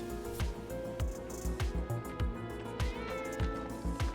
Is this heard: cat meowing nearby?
yes